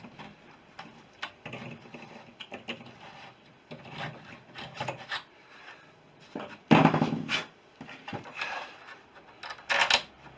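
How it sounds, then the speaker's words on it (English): A reamer scrapes resin out of a bolt hole in a wing, producing irregular close rubbing and grinding strokes with wooden knocks and a louder scrape burst midway, no talking. "we just need to ream out that little bit of resin out of there"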